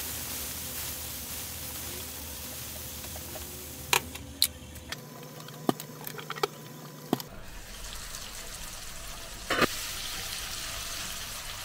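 Oil sizzles steadily in a pan, a constant crackling hiss, with a few sharp clinks of utensils partway through.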